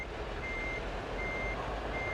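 A truck reverses in Euro Truck Simulator 2, its reversing alarm beeping at a steady, evenly spaced rhythm over a constant low engine rumble.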